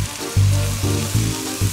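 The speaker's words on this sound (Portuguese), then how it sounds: "E agora a gente entra com a cebola picadinha. Vamos fritar ela junto com essas carnes." Chopped onion frying with diced meats in a pan, a loud, steady sizzle with bursts of crackling as the food is stirred, close up.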